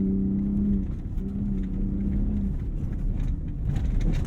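A 2021 Ford F-150 Raptor trophy-style pickup in Baja mode accelerates, its engine giving a steady, droning low growl with a rising tone that holds throughout, heard from inside the cab.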